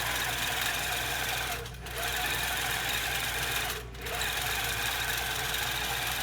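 A longarm quilting sewing machine stitches fabric with a loud, continuous mechanical whir and rapid needle chatter, close by, briefly easing twice before resuming.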